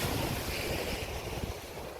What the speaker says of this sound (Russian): Пока обедали, ветер усилился